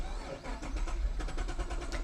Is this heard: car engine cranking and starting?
yes